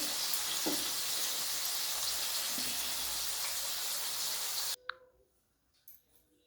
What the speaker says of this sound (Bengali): আলুগুলো খুব সুন্দর হয়ে ভেজে গেলে তারপরে আমি নামাবো